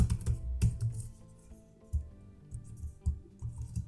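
Code being typed on a computer keyboard for a JavaScript programming tutorial, with close, quiet keystrokes clattering in quick irregular bursts and short pauses between them.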